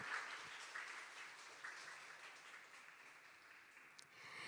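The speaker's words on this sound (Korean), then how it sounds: "박수 부탁드립니다" Quiet, distant applause from the audience at a Korean orchestra concert, a steady wash of clapping that holds evenly throughout with no voices.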